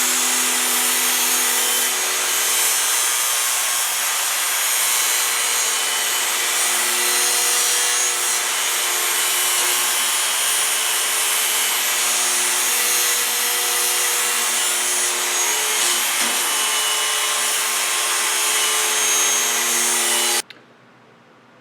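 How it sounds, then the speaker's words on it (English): An angle grinder cuts down a metal supporting prong on a 1750 lb Anyang power hammer, with a steady, loud, continuous whine and grinding roar lasting about twenty seconds before it cuts off abruptly. "take the angle grinder and I'm going to reduce the width of that supporting prong there."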